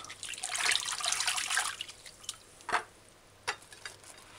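Tap water runs and splashes while garlic and okra are rinsed for a scallop curry stew, a steady gush for over a second, then a few scattered drips and small splashes afterward.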